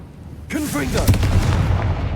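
A Confringo blasting spell from the Hogwarts Legacy video game bursts loudly after a short quiet, a sharp explosive boom followed by a sustained rumbling roar and crackle that carries on to the end, with game sound layered over it.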